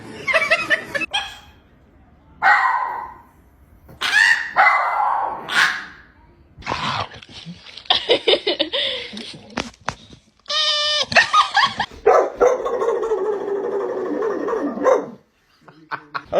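Comic compilation of dog sounds with short barks and yelps in bursts between stretches of talk, some with a goat-like bleating quality, moderately loud and close.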